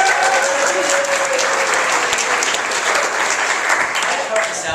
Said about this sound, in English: Everyone give Kate a round of applause